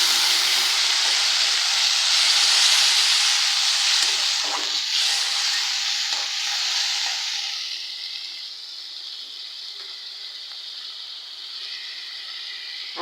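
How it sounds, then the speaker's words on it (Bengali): Water poured into a pan of onions frying for a Bengali hilsa and eggplant curry sets off a loud, steady sizzling hiss that slowly settles to a quieter simmering sizzle, with faint stirring clinks. "এই তো দিয়ে দিলাম পানি"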